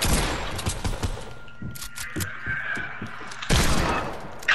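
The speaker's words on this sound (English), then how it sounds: "Let me just hit you with a hand cannon doing this." Hand cannon gunfire in the video game Fortnite, a string of sharp, punchy shots fired in quick irregular succession, loud and close, with a louder burst near the end.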